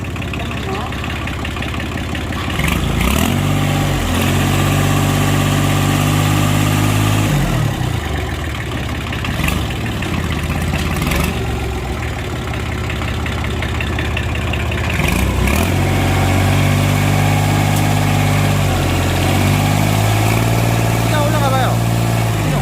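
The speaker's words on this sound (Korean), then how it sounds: "엔진 소리 좋은데?" A Daedong L2202 tractor with a slack belt and a history of stalling on uphill slopes runs at close range, its diesel idling with a deep steady throb that swells with several revs, while people talk nearby.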